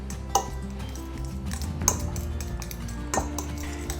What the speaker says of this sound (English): Now we're gonna go ahead and mix this all up until it looks like wet sand.